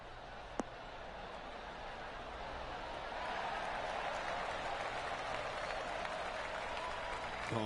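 Polite golf clap applause from a gallery crowd in a PS5 golf video game, a soft, distant patter of many hands that swells slightly partway through and continues evenly to the end.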